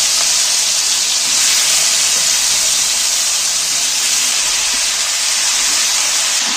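Salted carrot and potato pieces dropped into hot oil, a loud continuous broadband sizzle and hiss that stays steady throughout, close and with no talking.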